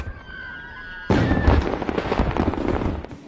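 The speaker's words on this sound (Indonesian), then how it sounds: "ada letusan kembang api yang menandakan bahwa permainan telah usai" Fireworks burst in a Japanese film marking the end of a deadly game, a sudden loud crackling eruption after a quiet tonal lead-in, with dense popping and fizzing that continues for a few seconds before cutting off.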